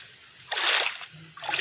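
Water splashes in two bursts, the first louder and longer, the second shorter a moment later, fairly close with no talking.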